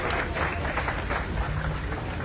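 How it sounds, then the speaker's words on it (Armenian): A party team greets citizens with steady applause, a dense wash of clapping from a group at close range that runs unbroken through the moment. "քաղաքացիական պայմանագիր կուսակցության թիմը ողջունում է ձեզ եւ ծափերով է դիմավորում"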